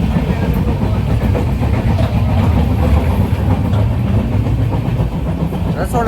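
Inside a moving passenger train, loud continuous rumble with rhythmic clickety-clack of wheels over rail joints, steady engine and carriage noise filling the whole stretch, with faint voices underneath.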